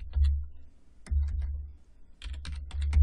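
Keys on a computer keyboard are tapped in quick clustered bursts, with crisp close-up clicks separated by brief pauses.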